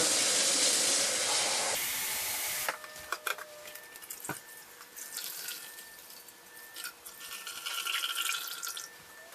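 Cold tap water runs into a measuring cup while blueberry muffin batter is being made. A loud rushing hiss gives way to a softer, uneven trickle and splashing.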